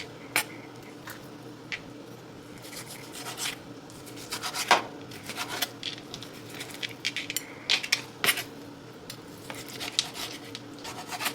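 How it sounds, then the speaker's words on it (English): A knife cuts steak into small bite-sized cubes on a board, with irregular scraping and chopping taps. The occasional knocks sound close and fairly quiet. "So I'm gonna just cut them into smaller cubes."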